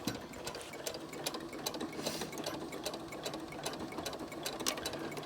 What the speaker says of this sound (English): I'm gonna go slow, and then I'm gonna back stitch.